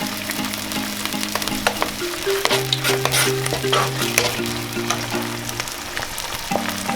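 Red chili paste frying and being stirred in a pan, a steady loud sizzle broken by repeated scrapes and clinks of the spoon, with a low tonal hum from the stove or hood underneath.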